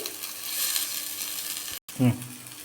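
Fish pieces sizzle as they fry in one spoon of oil in Healux cookware, a steady close crackling hiss that cuts out briefly before a short clatter of the pan or lid.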